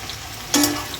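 Onion and capsicum fry together in a pan with a soft, steady sizzle, punctuated by a brief louder scrape or stir midway.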